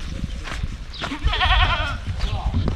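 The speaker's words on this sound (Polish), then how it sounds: "To barany, nie kozy." Rams bleat with a wavering, tremulous call midway through, among a flock at Petra in Jordan, heard near and loud over a voice and outdoor background noise.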